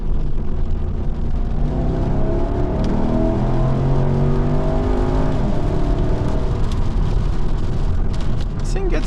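A cheap, neglected Jaguar car with a 300-horsepower engine accelerates from inside the cabin, its engine note climbing steadily in pitch through a long, loud pull with a constant road roar.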